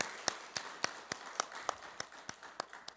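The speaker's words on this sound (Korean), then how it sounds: "우리 한번 그동안 수고하셨다고 우리 감사의 박수를 한번 하시겠습니다" A church congregation at a Sunday Christmas service applauding in thanks, a sparse, slow run of about a dozen distinct, evenly spaced claps, sharp and fairly close against a quiet room.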